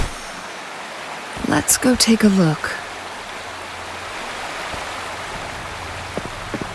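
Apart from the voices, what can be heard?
waterfall rushing in Wuthering Waves, a video game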